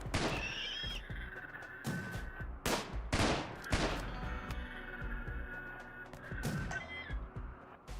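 Rapid gunfire from a RimWorld colony battle, with the game modded with Vanilla Expanded content. Loud bursts of shots crack out close together across the whole stretch, some volleys running into each other, over a steady background hum.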